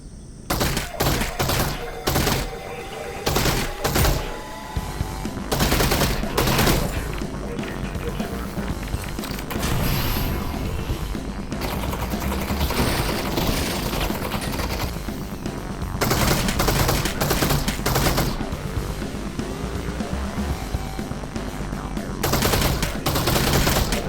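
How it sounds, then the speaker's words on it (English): Rapid SMG gunfire in Half-Life Alyx, played in VR on an HP Windows Mixed Reality headset, with dense repeated bursts and volleys of shots filling the stretch, broken by brief gaps and a few thuds. "we're gonna start with killing them by SMG because those are just normal dudes"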